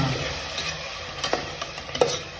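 Mint, coriander and chili paste is stirred into chicken palav in a hot pan, a steady low sizzle broken by several soft spoon scrapes and taps, close and quiet.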